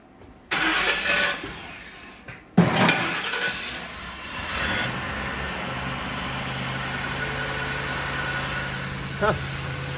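A Ford Crown Victoria engine cranks and fires in a garage, catching with a sharp burst, then settling into a steady mid-pitched idle that runs to the end; someone speaks briefly nearby.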